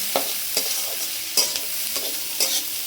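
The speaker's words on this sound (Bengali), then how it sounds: "এবার আমরা গাজর দিয়ে দিচ্ছি। এরপর আমাদের আস্তে আস্তে দেবে ক্যাপসিকাম, ভালো মতো নাড়িয়ে নেবে।" Onion and carrot stirred and fried in a pan, a steady close sizzle broken by several sharp scrapes of the spatula at an uneven rhythm, with no talking.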